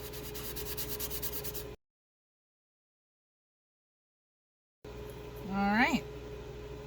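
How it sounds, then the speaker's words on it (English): Wooden craft pieces for a Mother's Day tree-of-life project are sanded by hand with a short burst of rhythmic rubbing, followed by a pause and then a brief vocal sound. "And I'm just gonna sand these."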